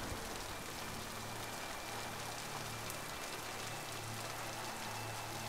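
Steady rain on a lush, tree-covered alien planet in the video game Mass Effect 2, a continuous soft hiss of falling drops with a low, faint hum beneath, even and unbroken throughout.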